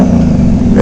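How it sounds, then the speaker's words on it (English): A Honda Goldwing motorcycle fitted with a full exhaust holds a loud, steady engine drone for a brief moment, close by and with no one talking. "I've always wondered what a Goldwing with like a full exhaust would sound like"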